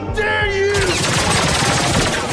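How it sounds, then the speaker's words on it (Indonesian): Rapid bursts of gunfire rattle in dense, loud succession after a brief tonal sound at the start, continuing unbroken to the end. "Dong mendengar suara tembakan"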